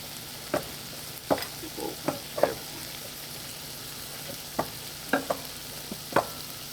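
A burger patty cooking in a pan gives a soft steady sizzle under a scattering of sharp utensil taps and scrapes, close by and fairly quiet.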